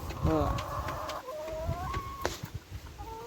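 Laying hens cluck on a farm in cold weather, several close, bright clucks and rising calls overlapping in an irregular run over faint background noise.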